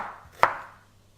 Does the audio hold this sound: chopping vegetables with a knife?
yes